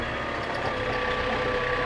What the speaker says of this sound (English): I'm only doing this really to warm the engine up